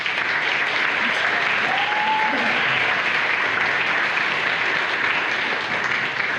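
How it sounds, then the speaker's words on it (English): Steady, dense audience applause at a forum's welcome remarks holds at an even, full level throughout, with no breaks or speech over it. "let's give another round of applause to Dr. Allyson"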